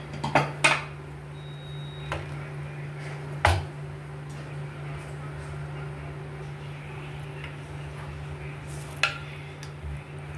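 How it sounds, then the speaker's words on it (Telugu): A pressure cooker lid is handled and opened in a home kitchen after cooking: a few sharp metallic clanks and knocks of metal on metal over a steady low hum, with quiet stretches between them. "ఇప్పుడు కుక్కర్ మూత తీసి చూద్దాము."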